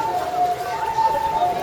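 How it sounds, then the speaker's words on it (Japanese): An ambulance siren sounds as a faint, steady wailing tone from a distance, drifting slightly in pitch over quiet background noise. "あら、救急車。"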